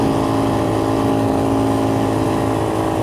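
An X-Pro Templar 250 dual sport motorcycle with a single-cylinder engine idles steadily close by, a constant low drone with no revving and no talk.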